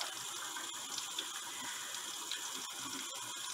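Cool tap water runs steadily into a sink while a kiwi bird bathes, a constant close splashing hiss with small ticks and drips and no voices.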